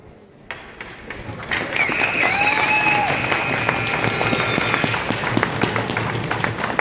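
Crowd cheering and applauding at a Taos championship game, Arvada against Pikes Peak, a dense wash of clapping that swells after a quiet start and stays loud, with whistles and shouts rising through it.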